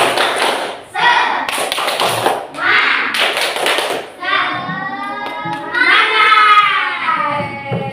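A group of children clap out a rhythmic tepuk semangat pattern in a classroom lesson, sharp close hand taps and thumps at first, then giving way to their sung, chanting voices.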